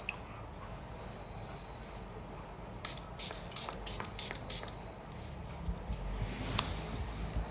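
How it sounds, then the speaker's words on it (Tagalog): First Spray Serum misted onto the face during a men's skincare routine, heard as a quick series of short, crisp spray bursts close by over a soft background hiss, with no talking. "So mag-spray muna ako nitong First Spray Serum."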